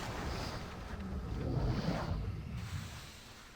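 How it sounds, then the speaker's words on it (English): Water drains out through an opened chute in the video game Riven, a low, steady rushing wash with no voices. "Oh, well, the water's emptying."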